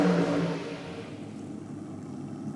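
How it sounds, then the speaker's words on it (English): A top fuel dragster engine revs hard and then fades as it pulls away, a loud rasping exhaust roar tapering off into the distance. "It's got a nice crisp sound coming out the exhaust."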